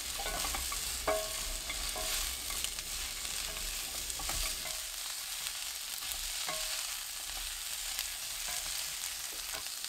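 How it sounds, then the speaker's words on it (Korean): Onions and garlic stir-fry in olive oil over medium-low heat, giving a steady close sizzle broken by occasional scrapes and clacks of a utensil against the pan, with no voices. "양파 넣고 3분 30초 볶아주세요."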